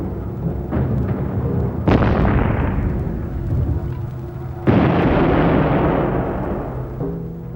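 World War I artillery guns boom in a sustained bombardment, two heavy blasts with long rolling decays over a continuous rumbling barrage, loud and alone.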